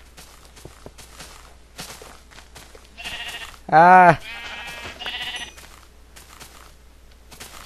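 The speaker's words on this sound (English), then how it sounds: "Here's the lamb." A Minecraft sheep lets out a loud, harmonic bleat in the middle of the clip, surrounded by blocky footstep clicks, shorter game tones and a man's brief exclamation.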